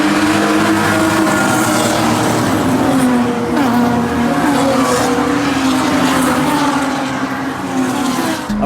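Pro3 race cars roar past in a loud, continuous blur of engines on track, the pitch rising and falling as the pack streams by.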